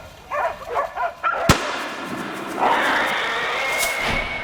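A single sharp hunter's gunshot cracks out during a winter wild boar hunt, a loud close report following some barking, then a sustained rushing noise.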